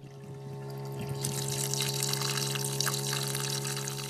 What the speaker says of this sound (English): let's try the cold water tap first